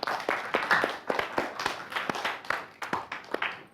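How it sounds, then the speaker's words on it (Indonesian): A studio audience claps for a female guest artist, Fanny Vanilla, on an Indonesian religious TV talk show; scattered, uneven hand claps with irregular loud peaks, fairly close, no talking. "tepuk tangan untuk Fanny Vanilla"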